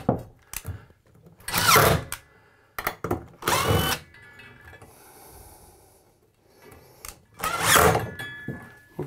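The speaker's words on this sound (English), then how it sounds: "What we're gonna do is just take my drill and we're gonna disengage" A power drill whirs in three short bursts removing screws from a shower valve assembly, separated by pauses, with faint clicks and handling noise between them.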